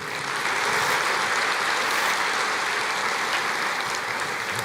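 A church congregation applauds together during a sermon, producing a thick, even wash of clapping that holds at steady strength throughout without a break.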